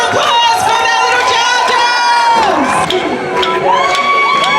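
A large crowd at a Melbourne Invasion Day rally erupts in cheering, whooping and shouting with children's voices, loud and sustained throughout, with a few higher yells rising above the mass.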